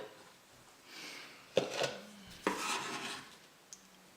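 Knife chopping ingredients for steak tacos on a cutting board, two distinct sharp strikes followed by scraping and rustling, close and fairly quiet with no talk.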